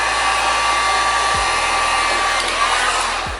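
Heat gun blowing a steady, loud stream of hot air over Arlon print wrap film, a continuous whooshing roar with motor hum that briefly shifts partway through.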